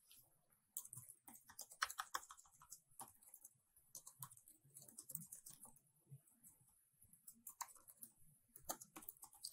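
A description is typed on a computer keyboard as a brisk, uneven run of close, light key clicks with short pauses, with no talking.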